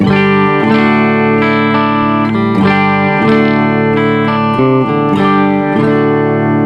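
Electric guitar through a Wampler Thirty Something overdrive pedal, bass turned up to 3 o'clock, plays sustained, full-bodied chords that change every second or so, thick and warm in the low end with bright upper harmonics.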